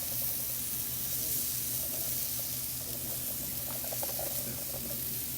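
Vegetables and zucchini fry in a hot pan, giving a steady close sizzling hiss that runs unbroken throughout without talk.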